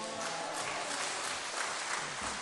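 A church congregation claps as the pastor comes out, producing a faint, even spread of applause heard from a distance, with no single claps standing out.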